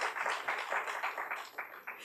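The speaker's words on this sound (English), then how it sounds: "Let's applaud." A lecture audience applauds, a brief burst of dense hand-clapping in a hall, fairly faint and ending within about two seconds.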